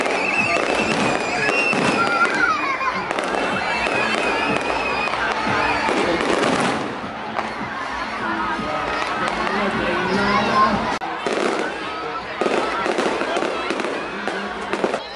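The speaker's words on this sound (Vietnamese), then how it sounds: "Đã đến giờ bắn pháo hoa rồi nha các bạn." Fireworks burst repeatedly at a street festival on a pedestrian street in Long Xuyen, a loud rapid barrage of crackling bangs over a noisy crowd, with someone talking over the explosions.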